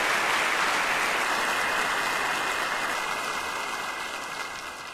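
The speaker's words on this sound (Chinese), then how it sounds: "掌声响起来" Steady, dense audience applause fills the hall at a steady level, continuous throughout with no voices over it, thinning only slightly toward the end.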